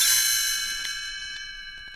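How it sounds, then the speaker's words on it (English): A bright chime rings out as a page-turn cue on a children's read-along record, one clear struck tone decaying slowly with faint follow-up tings, and no talk. "You will notice time to turn the page when you hear the chimes ring like this."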